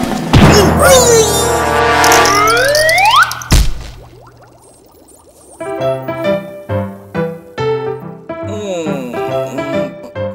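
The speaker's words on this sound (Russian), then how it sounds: "Сигнализация." Alarm in an animated cartoon wails with a swooping siren tone, cuts off after a crash, then returns as a loud, rhythmic, pulsing electronic beeping.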